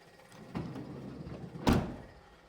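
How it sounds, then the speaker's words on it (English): A vehicle door shuts with a single solid thump near the end, preceded by a lighter knock and faint handling noise, close by with no talking, during work on a mobile car-detailing setup. "close the door, close the other one."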